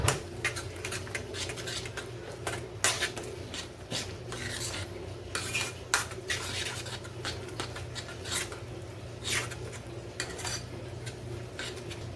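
Batter of mixed dal and grated carrot for bhaji is worked around a bowl with a spoon, giving close, irregular scraping and clinking strokes with a low steady hum underneath, and no voices.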